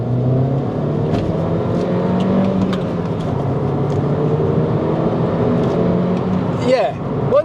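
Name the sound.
MINI JCW R56 engine accelerating in second gear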